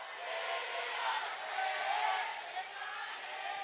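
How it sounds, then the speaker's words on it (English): A hockey arena crowd at an ice hockey game roars and sings along in a steady, dense wash of voices, sustained and fairly distant, with an announcer's voice faintly over it. "Listen to this crowd here."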